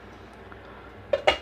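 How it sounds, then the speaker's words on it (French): A metal saucepan is handled in a kitchen to set up a bain-marie, giving two short, sharp clanks close together at the end after a quiet stretch. "Dans une casserole, nous allons donc réaliser un bain-marie."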